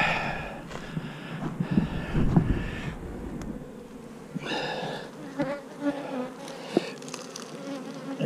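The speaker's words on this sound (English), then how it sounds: "These bees, a lot of them coming back." Bees returning to a newly set-up hive buzz close to the microphone, their droning hum rising and falling as individual insects pass, with light wind noise underneath.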